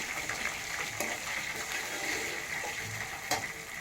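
Green chillies frying in hot oil in a pan for mango chitranna, a continuous sizzle with occasional stirring scrapes, fairly close, with no speech.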